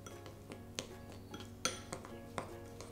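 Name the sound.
mixing ground spices together in a bowl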